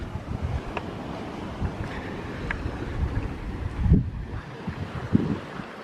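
Wind and surf at Lovers Key Beach in southwest Florida, a steady broadband rush of waves with wind buffeting the microphone, a few louder swells cresting near the end.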